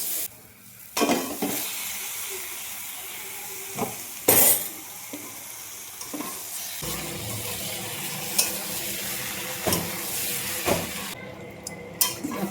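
Spiced meat masala with turmeric, salt, chilli and cumin paste sizzling in a pan while being stirred for kosha, loud close frying broken by sharp scraping and clanking stir strokes.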